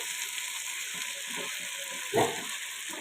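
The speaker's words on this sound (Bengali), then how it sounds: "তো এটা আমি একটু ফ্রাই করে নেব, একটু লালচে রং করে নেব" Chopped onions and green chillies fry in a pan for chicken curry, a quiet, steady hiss and sizzle with a brief louder spatter near the end.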